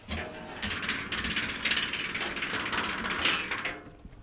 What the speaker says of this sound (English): The reason I've got the whip on, it'll make a noise going under this tunnel.